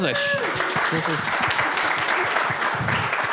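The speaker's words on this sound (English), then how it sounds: "Let's give him a round of applause." An audience at a startup innovation panel event applauds, the clapping starting abruptly and continuing steadily under a voice speaking over it.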